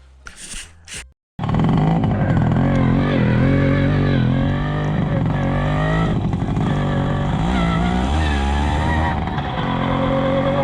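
A Romet Ogar 205 moped riding on a snowy road: after a short pause the small two-stroke engine roars up and holds a loud, buzzing, wavering drone close by, pitch rising and falling with throttle.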